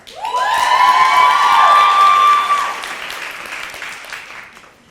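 A hall crowd at a nursing white coat ceremony breaks into loud applause and cheering, with a few high whoops rising over the clapping before it slowly tapers off.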